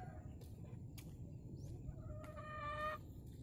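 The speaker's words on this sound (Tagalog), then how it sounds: "Meron silang inahing manok." Soft mother hen clucks and other poultry calls come from a short distance over a low background rumble, with a faint rooster call near the end.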